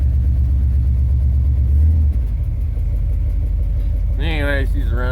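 A Chevrolet S10 truck runs after a cold start in freezing blizzard conditions, its engine making a loud, close, low idle rumble that dips and shifts partway through, and someone speaks briefly near the end.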